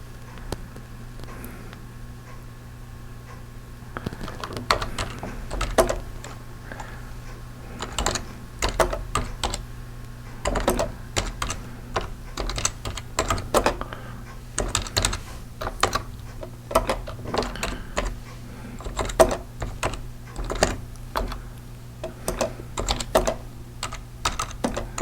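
Typing on a computer keyboard to write a post, steady close key clatter in uneven bursts with brief pauses, starting after a few quiet seconds and continuing alone to the end.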